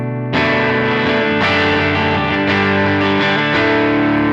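Electric guitar played through a Heir Apparent overdrive on an HX Stomp, loud sustained overdriven chords struck several times in succession, alone without voices.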